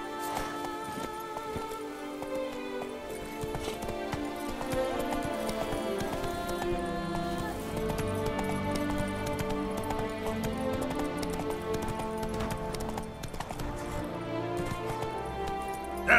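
Roach, Geralt's horse in The Witcher 3: Blood and Wine, with hooves clip-clopping in a steady rhythm beneath a continuous musical score, moderately loud throughout.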